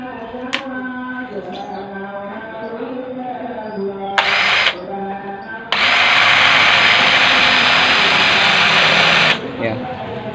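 An electric drill fitted with a freshly sharpened bit bores into material, first a short whirring burst, then a longer steady high whine after someone speaks.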